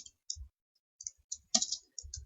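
Key presses on a computer keyboard while typing code into a program, a few short separate clicks and a denser burst of taps, close and fairly quiet with gaps of silence between them.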